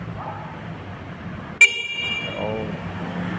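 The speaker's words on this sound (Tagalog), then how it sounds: "Tapos yung busina, pakinggan natin." A single short electric horn beep from a Rusi Macho 150 motorcycle sounds once over a quiet engine idle, sharp and close, then the idle continues.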